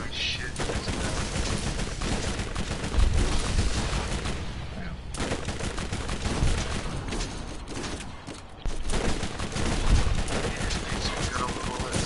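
Sustained gunfire from bullet weapons in a video game, dense rapid bursts running throughout with a few heavier impacts, loud and continuous with a voice talking over it at times.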